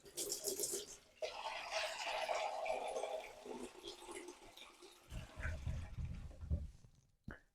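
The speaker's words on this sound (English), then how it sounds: "I'm just going to run some hot water from the tap." Hot water runs from a kitchen tap in a steady splashing gush while a Pinter 3 brewing keg is being cleaned, briefly interrupted and then returning with deeper gurgling near the end.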